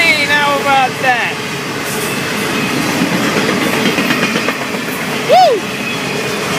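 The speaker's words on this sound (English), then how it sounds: "Nice looking train." FEC freight train 101 passing close by, a loud continuous rumble of rolling wagons with rhythmic clatter and a brief wheel squeal near the end; people talk over it.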